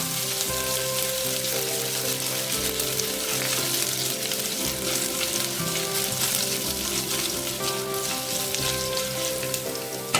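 Crushed ginger and garlic sauté in a pan for a vegetable curry, with a steady, close, fairly loud sizzle and occasional stirring scrapes running unbroken throughout, no voices.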